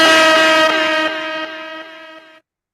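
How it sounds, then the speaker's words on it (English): A DJ air horn blasts on a live hip-hop show, a loud sustained harmonic honk that breaks into several quick stuttered repeats before cutting off sharply, heard alone with no voices. "Let them air horns off, man."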